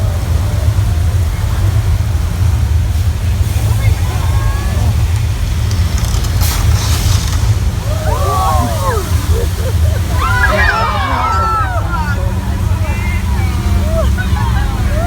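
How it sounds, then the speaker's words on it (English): Heavy rushing and sloshing water from a flash flood effect on a Universal Studios Hollywood ride roars steadily throughout, with squealing, chirping sounds rising over it near the middle. "That was our flash of flood."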